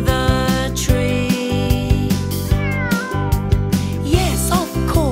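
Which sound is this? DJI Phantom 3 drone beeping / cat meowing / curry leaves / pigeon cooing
cat meowing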